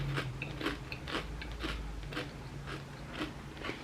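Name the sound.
biting into a chip with cucumber dill garlic dip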